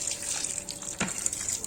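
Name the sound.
pouring hot water into date pickle mixture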